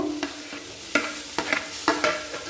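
A spoon stirs chopped tomato with ginger and garlic paste frying in oil, sharp scraping strokes repeating about every half second over a steady sizzle.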